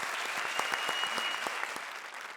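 Audience clapping at a comedy show, a sustained wash of applause with sharp individual claps standing out, moderately loud and fading slightly toward the end.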